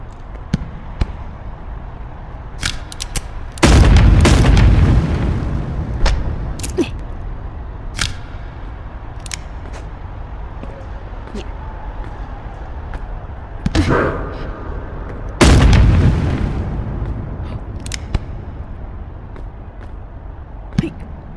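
Gunfire and explosions from an animated Animal Company-style video game: two loud, heavy booming bursts stand out against scattered sharp cracks and pops, with faint background noise between them.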